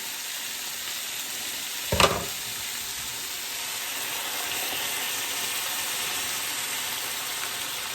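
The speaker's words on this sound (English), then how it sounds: "we're adding the Thai red curry sauce" Thai red curry sauce poured into a hot pan for red curry chicken, a brief splash at the start giving way to a steady, even sizzle that fills the rest of the clip with no talk.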